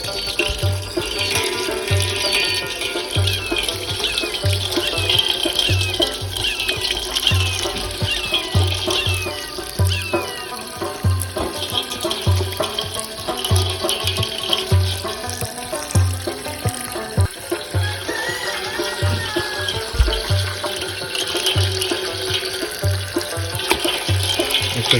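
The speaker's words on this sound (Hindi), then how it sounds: "अब जो है ना पानी छोड़ लेते हैं।" Tap water runs steadily into a sink to wash yak meat, a continuous splashing flow that lasts throughout, with faint clinks and movement mixed in.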